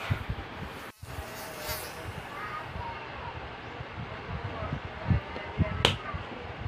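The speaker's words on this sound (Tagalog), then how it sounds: "Ang lamok dito yun." Mosquitoes buzzing close by, a thin, continuous whine that stays fairly faint throughout, with a few brief knocks and some background voices.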